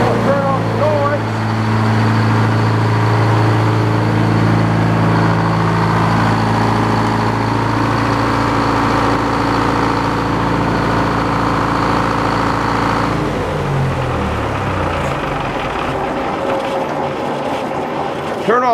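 A sawmill's engine runs steadily at a loud, droning idle with a low hum and tonal whine, then cuts out partway through, leaving rattling mechanical noise as it winds down.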